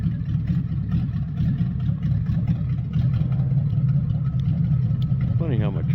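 A 1969 Chrysler 300 street machine driving, its engine giving a loud, steady low rumble throughout, with a voice briefly speaking near the end.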